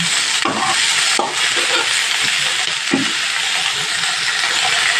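Pui greens with mitoli and prawns frying in a pan over a medium gas flame, a loud continuous sizzle broken by a few scrapes and clinks of stirring, with no voices.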